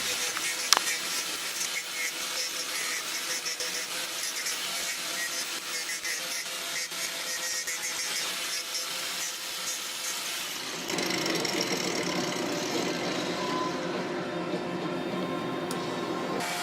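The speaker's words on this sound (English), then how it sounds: "sometimes I just resort to the power tools and I get it done" Power tools grind and buzz steadily against a wooden spoon being shaped, a continuous whirring drone that shifts to a deeper, rougher tone partway through as the tool bites differently.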